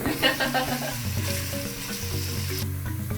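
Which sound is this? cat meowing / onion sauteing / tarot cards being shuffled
onion sauteing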